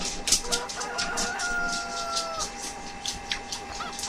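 Chickens in the Farming Simulator 15 farming game cluck and crow in short repeated bursts, a rooster call rising over busy clucking with a faint steady hum underneath.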